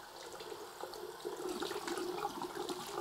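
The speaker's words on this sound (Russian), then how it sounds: "Я открываю и включаю горячую воду." Hot water running at full flow from a tap in a flat in a new Moscow renovation housing block, a steady rushing splash that grows louder partway through, with no talk.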